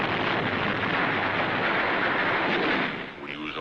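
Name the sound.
hand grenade explosions in wartime footage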